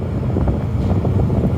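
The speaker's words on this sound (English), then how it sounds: "I don't think I'll go up there because it's too windy." Strong gusty wind buffeting the microphone outdoors on a city street, a loud continuous low roar with fluttering pulses and no voices.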